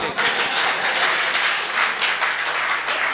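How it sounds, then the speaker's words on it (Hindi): Audience applause at a Hindi comedy poetry (kavi) performance, a dense steady wash of clapping that fills the whole few seconds at fairly loud level, with no clear speech over it. "बच्चे के जवाब पे तालियां आनी चाहिए"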